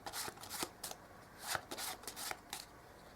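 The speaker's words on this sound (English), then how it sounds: "I'll give these cards a bit of a mix" A deck of playing cards is shuffled by hand, giving a run of quick, crisp riffling bursts at close range with no talking.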